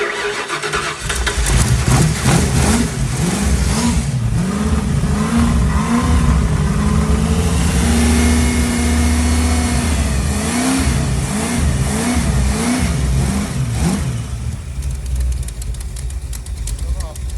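A 1954 Ford F100 pickup fires up for the first time after a fuel system install, cranking briefly, then catching and revving in repeated rising and falling surges before settling, loud and close, with no voices.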